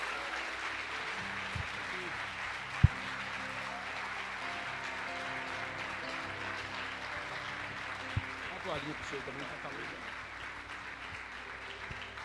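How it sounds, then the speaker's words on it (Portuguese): Sustained applause from a large church congregation fills the room, steady and continuous, with a voice and a few sharp knocks heard over it. "Você vai dar um aplauso bem gostoso para Jesus."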